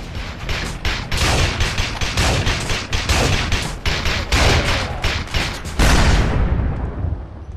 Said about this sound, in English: the SPAS 12 was always there to back you up